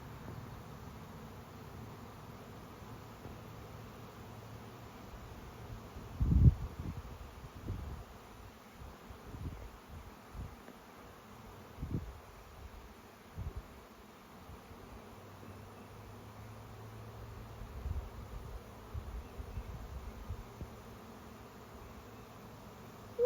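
Honeybee swarm moving into a homemade swarm trap outdoors, a faint continuous buzzing hum heard from a distance, with occasional soft knocks and rustles.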